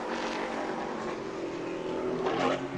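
Super Late Model race car roaring steadily through a qualifying lap at New Smyrna, the engine note loud and sustained, swelling again toward the end as it passes close.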